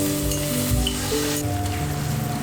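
Two tablespoons of sour yogurt hit hot spices in a pan for a pointed gourd (patol) malaikari, giving a loud, continuous sizzle with faint stirring scrapes and no talking.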